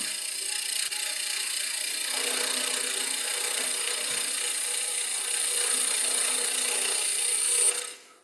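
A wood lathe spins a workpiece while a tool scrapes along it, truing a square blank into a 1/4 inch spigot; a steady, close, high grinding hiss runs without a break, then cuts off abruptly near the end.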